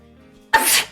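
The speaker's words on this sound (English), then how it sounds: "Why are you sneezing so much?" A single sharp sneeze bursts out loud and close, a sudden explosive onset that trails off over a fraction of a second, with a quiet kitchen background before it.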